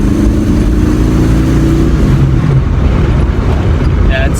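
A custom 1934 Ford Model 40 pulls under light throttle, a loud, rough engine drone with road noise that rises slightly and then levels off, heard from inside the car.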